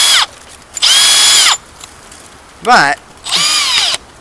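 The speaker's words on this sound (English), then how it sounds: "I want to be able to drill a straight hole straight through my beams" A power drill bores a hole straight through a timber frame beam in three long whining bursts with short pauses between them, and a brief voice breaks in during one gap.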